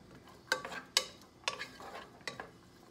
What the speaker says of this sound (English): Now I'm going to stir them around so that they don't boil over.